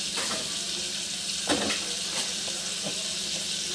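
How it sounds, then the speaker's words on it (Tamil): Water poured into semolina in a pot for upma, a steady close rushing hiss with faint sizzling and a few small splashes throughout. "இப்போ இதில் தண்ணி ஊற்றிடலாம்"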